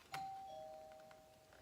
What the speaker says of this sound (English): Somebody's ringing our doorbell.